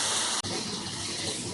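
Water for suji halwa pours steadily into a pan holding sugar, a close, continuous hissing gush with one brief break near the start.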